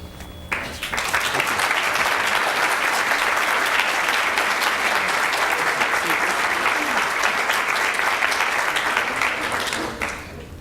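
Sustained, dense applause from the audience at a county school board meeting honoring Mountain View High School TSA students, a loud even roar of clapping lasting about ten seconds before tapering off at the end.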